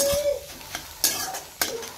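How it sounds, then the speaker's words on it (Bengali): An egg frying in a pan, with a soft sizzle under a few sharp clinks and scrapes of a utensil against the pan, close and fairly loud. "আর এখন ডিমটা ফ্রাই করছি"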